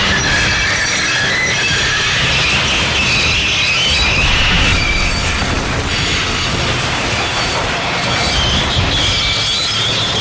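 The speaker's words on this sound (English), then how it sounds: "his wheels slipped fiercely again and again, with a shrieking crash" A locomotive's wheels slip fiercely with a shrieking crash in the Trainz railway simulator: a loud, constant rumble of rail machinery runs beneath high, piercing metallic squeals that rise and fade across the scene.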